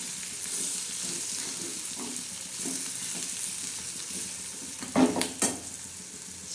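Spiced usal sprouts with turmeric and salt sautéing in a pan, giving a steady soft sizzle with stirring scrapes throughout and a couple of louder clatters near the end.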